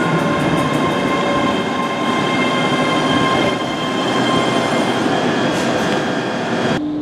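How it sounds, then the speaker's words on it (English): A Class 305 electric multiple unit train rolls loudly into a station, steady rumble with metallic squealing tones and faint clatter, ending in a brief hiss of air. "The train arriving at platform 4 is the 1913 service to Glasgow Queen Street."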